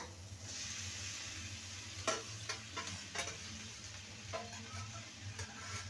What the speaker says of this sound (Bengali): ভালো করে নেড়ে নেব মশলার সাথে